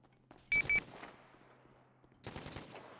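Gunfire in the video game GTA 5: two sharp, loud, close shots come early, then quieter sound, then a longer, dense rattle of rapid fire near the end.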